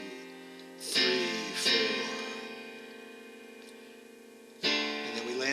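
Piano chords struck with doubled octave bass notes underneath, a few loud attacks ringing out and sustaining between them, close and clear with no talking.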